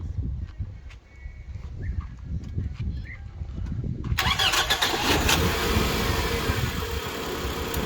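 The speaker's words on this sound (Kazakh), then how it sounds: "Машина оталды. Газбен, бензинмен тамаша жұмыс жасап тұр." Toyota Camry 2.4 car engine cranking and catching, then settling into a loud, steady running roar close by after a quiet stretch with faint background sounds; the engine runs on gas and petrol.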